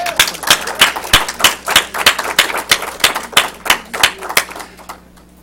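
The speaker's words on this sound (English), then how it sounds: "I will give him a round of applause" Sparse hand claps at a Toastmasters-style health club meeting, a brisk irregular round from a small group close by that trails off after about five seconds.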